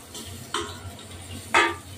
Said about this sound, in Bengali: পনিরটা ভাজছি সবে